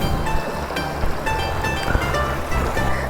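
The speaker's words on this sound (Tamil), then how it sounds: "தண்ணி வருது, ஓவர்ஃபுல் ஆகலை, கீழேருந்தே இதாகிட்டுருக்கு" Cold water seeping out from the bottom of a structure and breaking through on one side, flowing in a continuous close rush with some wind buffeting the microphone.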